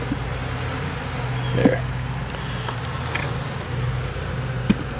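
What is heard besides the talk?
bees buzzing at an opened hive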